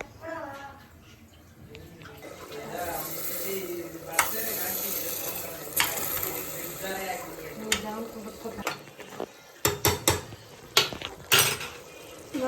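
A heated knife pressed onto mutton in a kitchen gives a soft, steady sizzle, with stirring and clinks of metal utensils, while a person talks over it.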